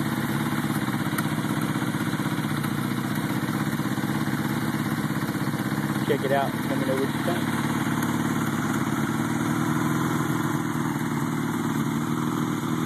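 A Honda CB750 motorcycle with aftermarket Scorpion exhaust idles steadily and close by, a constant throbbing rumble running the whole time while someone speaks briefly over it.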